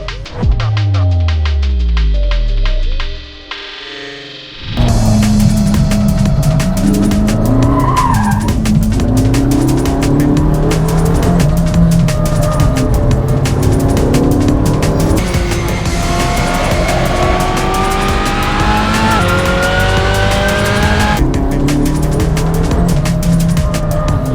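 A Ferrari 458 Challenge race car roars loudly on track with engine revs rising and falling through gear changes, after a brief opening burst of high-pitched engine whine.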